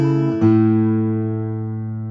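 A fingerstyle guitar rings out alone with a short chord and open strings, the open first string then the open fifth, struck together and left to sustain and slowly decay.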